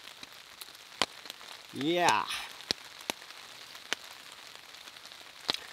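Raindrops fall on a lake campsite in the Kawartha Highlands, scattered distinct ticks and taps over a soft steady hiss, with a person briefly speaking midway.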